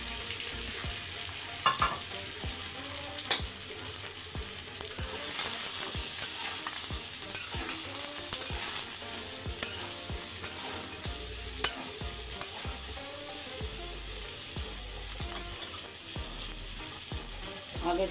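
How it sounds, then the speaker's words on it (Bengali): Sylheti soi pitha frying with chicken in a pan, a steady, dense sizzle up close with occasional light clicks of a spatula stirring, running unbroken throughout. "সিলেটের জনপ্রিয় সই পিঠা এখন আমি চিকেন দিয়ে ভেজে নিব।"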